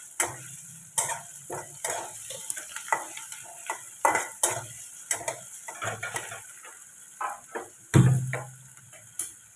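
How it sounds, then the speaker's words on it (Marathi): Onion being sautéed in a pan until golden brown during a morning kitchen routine, with repeated scraping and stirring knocks over a faint, steady sizzle, close and moderately loud, with no talking. "आता कांदा चांगला गोल्डन ब्राऊन होईपर्यंत आपल्याला परतायचं आहे"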